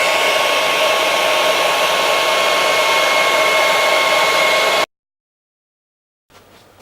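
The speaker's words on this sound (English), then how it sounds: "I'm going to use a hairdryer to dry the surface and really show the salts" A hair dryer blows a loud, steady high-pitched rush onto a stone surface being dried to draw out salt efflorescence, running alone for about five seconds before cutting off abruptly, followed by silence and a faint tail.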